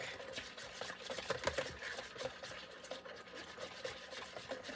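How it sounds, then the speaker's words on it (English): Sourdough mixture being whisked in a bowl, giving a continuous fast, scratchy rhythmic tapping and rubbing, close but fairly quiet, with no voice over it. "I'm whisking until it becomes basically like bubbly at the top"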